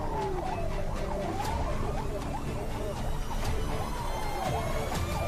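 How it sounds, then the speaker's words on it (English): A wailing police car siren during a chase, its rising and falling sweeps sounding continuously over loud traffic and engine rumble, close and steady throughout. "The siren definitely triggered those inside the white car."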